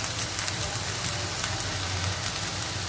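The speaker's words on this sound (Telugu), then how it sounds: "ముక్కలన్నీ బాగా ఆయిల్లో వేగాయి" Bitter gourd pieces frying in hot oil, a steady dense crackling sizzle with small pops, close and continuous throughout, without any talk.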